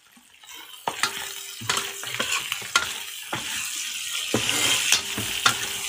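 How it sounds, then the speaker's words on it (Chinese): Food stir-fries in a wok, with rhythmic metal scrapes and clanks of the spatula over a steady close sizzle, strokes coming roughly every half second. "你们看小弟炒菜的这个手法怎么样？"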